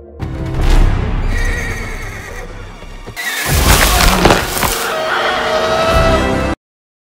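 A horse whinnies loudly in a dramatic fantasy scene, the neigh ringing out over a music bed, then a heavy crash and booming impact follow as the tone turns menacing.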